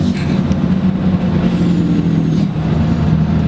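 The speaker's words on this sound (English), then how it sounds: "Let the exhaust brake come on." A Cummins diesel Dodge Ram pickup drones loud and steady from close range as the exhaust brake holds, giving a deep, even low rumble with a faint hiss on top.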